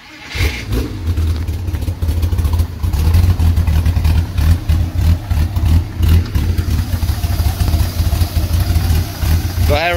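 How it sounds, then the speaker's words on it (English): Engine of a 1979 Porsche 911 SC being revved at an auction, loud and steady with a strong low rumble throughout, repeated rises in intensity, and a brief voice near the end. "Go ahead and rev it up."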